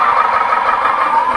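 Electronic engine sound module in a handmade RC Hino 500 miniature truck, set in third gear: a steady, loud droning engine hum held evenly through the short clip.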